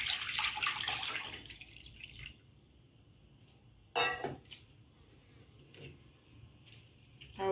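Water splashes and drips into a pot while preparing sugar syrup for rasagola, a short pouring burst at the start followed by scattered drips and clinks in a quiet kitchen.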